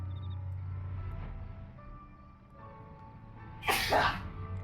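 A single sharp sneeze bursts out near the end, loud and breathy, after a stretch of quiet low background hum.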